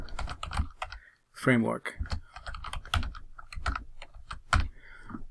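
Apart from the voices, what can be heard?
typing a commit message on a computer keyboard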